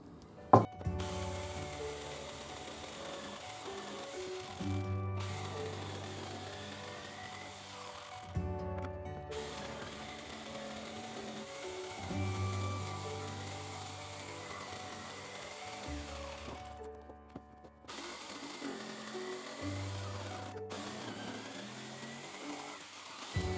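A power drill whines as it bores into wood in several long bursts separated by short pauses, close and fairly steady, with no talking.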